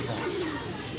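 Racing pigeons coo softly as they come down to land, a low, muffled cooing set against steady outdoor background noise.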